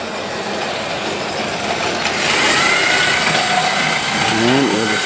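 Märklin model trains running on a home layout main line, a steady mechanical whirr and rumble of small motors and wheels on track that swells partway through, with no voices.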